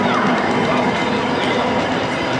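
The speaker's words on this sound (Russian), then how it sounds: "Вот такой вот исторический трамвайчик ходит здесь." A historic tram running through an Istanbul street makes a loud, close, continuous rumbling and clattering roar that fills the whole stretch without pause.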